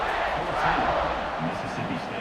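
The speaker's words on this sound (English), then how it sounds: "this crowd is buzzing after that last score" A stadium crowd buzzes in the College Football 26 video game during a Mississippi State versus Ole Miss matchup, a steady, fairly loud roar that carries on for a couple of seconds.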